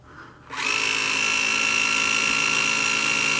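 A Carrera Digital 1/24 Porsche 911 RSR slot car's electric motor starts up after a brief pause and holds a steady, high, thin whine close by, with no talking.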